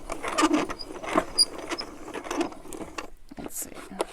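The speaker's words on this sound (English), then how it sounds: "you can hear them popping" Dried spicebush fruit crackles and pops while being ground in a coffee mill or food processor, giving a dense, irregular patter of small sharp snaps over a low mechanical rattle.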